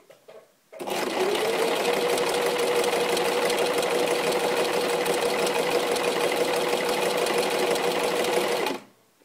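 A sewing machine runs in reverse to backstitch while sewing a top, giving a steady, close, continuous whirring hum for about eight seconds before stopping abruptly, with no talking.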